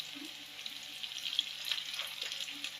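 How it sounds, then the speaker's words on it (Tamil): Chopped onions fry in a pan as a soft, continuous sizzle with faint crackles, heard close and alone without talk. "நறுக்கி எடுத்துக்கிற வெங்காயம் சேர்த்துக்கலாம் வெங்காயம் வந்து நல்லா பொறிஞ்சு வர்றதுக்கு"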